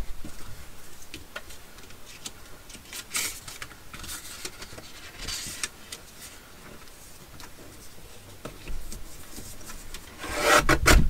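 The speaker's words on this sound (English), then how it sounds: "we'll get it the little guillotine again here so I can trim these sides up" A small paper guillotine trims the sides of paper pockets, giving a series of dry, close rasping and rubbing strokes with light ticks, ending in a louder scraping pass.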